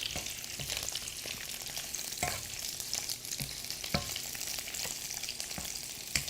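Shrimp sizzle and crackle steadily in hot oil, close and continuous, with occasional sharp pops and stirring clicks.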